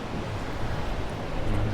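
Surf and wind at a windsurfing beach at Can Pastilla, Mallorca, a steady broadband wash of breaking waves with gusting wind noise on the microphone, continuous and fairly close, with no one speaking.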